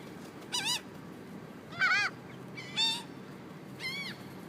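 Geese honk in four separate, nasal calls spaced about a second apart over a low outdoor background, moderately close and fairly faint.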